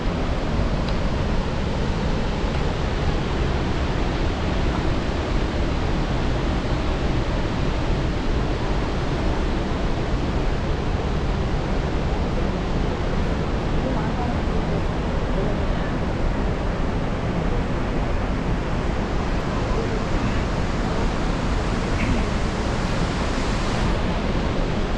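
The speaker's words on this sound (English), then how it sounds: "This is Sivanasamudra Waterfalls for you." Sivanasamudra Waterfalls in Karnataka roar as a dense, steady broadband rush of falling water that stays loud and unbroken throughout, with no voices over it.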